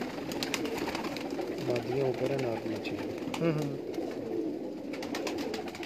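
Sialkot pigeons coo in soft, repeated low calls close by, heard beneath someone talking.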